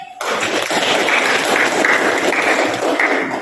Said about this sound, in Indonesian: Aplaus ya buat Samrin.